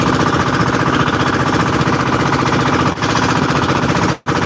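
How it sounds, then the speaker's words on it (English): Unmuffled diesel boat engines with straight exhaust pipes pound out a loud, continuous rapid rattle on a fishing trip, filling the whole clip with only a brief dropout near the end. "the diesel engines, they have no mufflers on them, guys. They just have a straight pipe coming out"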